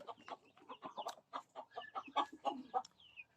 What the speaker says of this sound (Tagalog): Itong mga manok natin dito, kaparmar, talagang native po itong mga to.